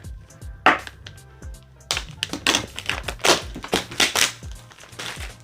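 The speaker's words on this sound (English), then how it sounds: "Let's get through this plastic wrap." Plastic shrink wrap is torn off an Akira manga volume: a series of sharp, close crinkling and ripping bursts in an irregular rhythm, with soft taps and thumps in between.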